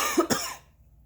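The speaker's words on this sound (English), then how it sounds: "I know I'm not supposed to cough into my hand" A person with sinus trouble and possible COVID-19 gives a single close, sharp cough into their hand, a quick double burst that fades into silence.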